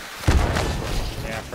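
A frag grenade explodes in the video game Hunt: Showdown, a single dull, heavy boom with a short rumbling tail, loud and close.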